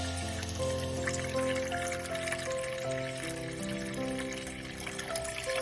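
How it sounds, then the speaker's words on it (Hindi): Water poured into a pot holding a whole chicken for a steam roast, a steady continuous splashing and trickling at close range, fairly quiet. "पानी हम इसके अंदर इतना शामिल करेंगे कि ये आधा कवर हो जाए।"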